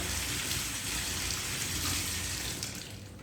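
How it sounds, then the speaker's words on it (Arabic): A kitchen tap runs steadily as vegetables are washed under it, a loud continuous close rush of water that eases slightly toward the end, no voices. "نغسلها كامله ونحيد لها القشره ونجيبها"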